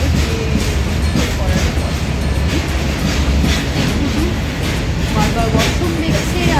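Steady, loud rumble of a moving passenger train, packed with people, with rhythmic wheel clatter running continuously from start to end, and faint voices mixed into the noise.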